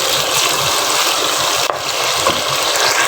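Whole spices (black pepper, cloves, a cinnamon piece and black cardamom) frying in hot oil, with a loud, close, continuous hiss and sizzle and a single small pop partway through.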